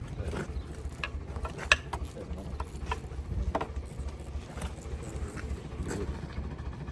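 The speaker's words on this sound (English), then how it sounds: "Get a spanner, let's take the spark plugs out." A spanner ratchets while loosening and removing spark plugs from an engine, giving a steady run of quiet clicking and mechanical rattles at close range, with no talk over it.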